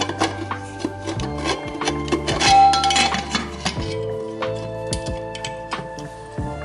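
A metal lid set onto a pressure cooker with a cake tin inside, whistle and gasket removed, giving close clinks and scraping metal knocks with some ringing, no voice over it.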